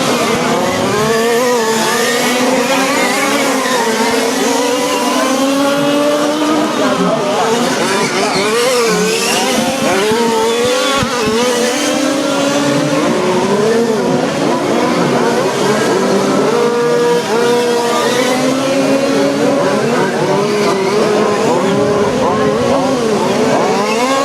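Radio-controlled 1/5 scale Formula 1 race cars scream around a track at a national championship final, high-pitched engines rising and falling continuously and loudly as they pass, with an announcer talking over them.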